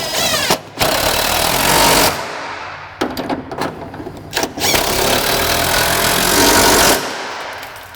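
A power tool runs down the fuel tank bolt on a Fox Body Ford Fairmont, with loud rattling impact bursts, several short stops and restarts, then a long sustained run before cutting off.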